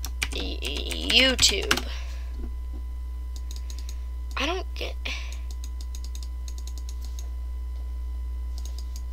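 A computer keyboard is typed on to fill a Google search bar, with short bursts of quick clicks over a constant low hum, following a brief spoken word.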